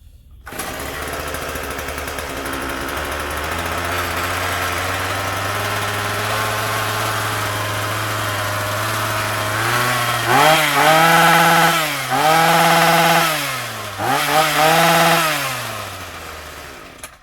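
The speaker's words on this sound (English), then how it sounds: "Now, I'm going to try to start this up and see how it runs." A repaired Black Max two-stroke string trimmer with a new carburetor starts and runs at a steady buzzing idle, then revs up sharply three times, loud and close.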